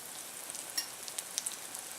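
Green tomatoes frying in hot grease in a skillet give a steady, soft hiss with scattered small pops and crackles, fairly quiet and close.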